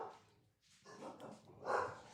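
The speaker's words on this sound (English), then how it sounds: "My dogs are barking." Dogs bark at home, several quiet, distant barks and yips in an uneven burst, the last one louder and closer, with no one speaking.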